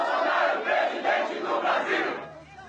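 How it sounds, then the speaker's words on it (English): A large crowd at a Jair Bolsonaro campaign rally in Brazil roars and cheers in loud, rhythmic surges, a dense continuous wall of voices. "the rapturous applause he's receiving as he travels the country"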